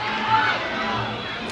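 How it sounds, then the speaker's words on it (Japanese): A crowd of a couple hundred spectators shouting and cheering loudly at a kickboxing match, a short continuous burst of voices rising together. "このブンチャイがキックを出しますと大声援がね"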